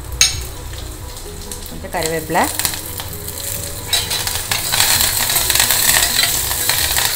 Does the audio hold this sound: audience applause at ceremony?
no